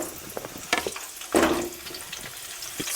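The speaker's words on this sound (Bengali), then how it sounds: "আলুগুলো প্রথমে তেলের মধ্যে দিয়ে দেবেন" Potatoes dropped into hot mustard oil for aloo dum give a sudden hissing burst of frying after a few small clatters, then a lower, steady sizzle with scattered pops, heard close up.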